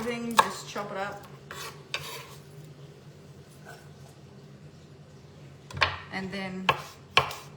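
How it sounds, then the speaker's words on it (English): A knife chops unpeeled garlic on a board for a pan of lamb, striking in quick clustered thuds near the start and again toward the end, close and crisp, with a quiet stretch between and a voice speaking briefly. "we're not going to eat this, so you don't have to peel it or anything, just chop it up."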